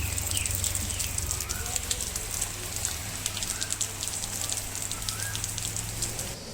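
Rain falls steadily on outdoor surfaces, a dense, even patter of drops that continues without pause throughout.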